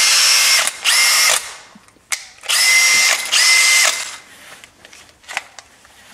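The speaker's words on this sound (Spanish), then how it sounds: "Veo que es un taladro rotomartillo atornillador" A Makita brushless cordless 18-volt hammer drill driver with two mechanical speeds runs in loud, close bursts: two long whirring runs, a brief gap, then another long run, followed by quieter short trigger blips.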